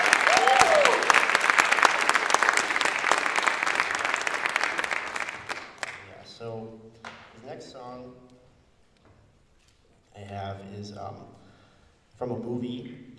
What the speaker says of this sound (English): Give one more round of applause for Tim Collador and Brandon Schmidt.